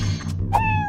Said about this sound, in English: Cat. That's good.